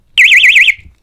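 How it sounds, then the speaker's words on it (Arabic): A personal safety alarm pulled from its clip on a school bag screams out a loud, piercing, warbling electronic tone close by for about half a second, then cuts off abruptly. "هذا جهاز انذار، هذا تسحب من هون واللي بتطلع صوت انه ساعدوني"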